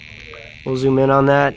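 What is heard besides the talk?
buzzer tone from potentiometer on electronic game board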